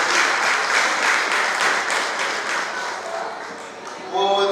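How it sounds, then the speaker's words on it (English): An audience at a Yoruba Day 2018 community celebration in Melbourne applauds, dense steady clapping that gradually thins and fades before a voice begins speaking at the end. "A round of applause again."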